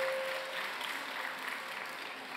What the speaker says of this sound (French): un peu d'applaudissements pour Peter Jackson et Jed Brophy